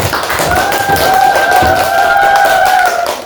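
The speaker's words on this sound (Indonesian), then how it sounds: "Tepuk tangan." A primary school class claps together after a group presentation, a dense patter of many hands lasting about three seconds in an indoor classroom, with a faint tonal hum running underneath.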